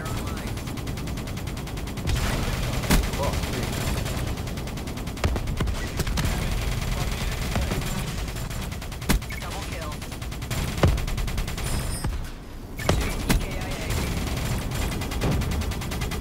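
Rapid gunfire in Black Ops 3, with dense continuous bursts and sharp individual shots that carry on almost without pause, loud and close, while someone talks over the shooting.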